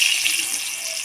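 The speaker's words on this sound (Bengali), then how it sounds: "তেলের মধ্যে বেগুনগুলো দিয়ে ভেজে নেব" Eggplant pieces sizzle as they go into hot oil in a home kitchen pan, where potatoes have just been fried. A steady, loud hiss of frying runs without a break, with no voices.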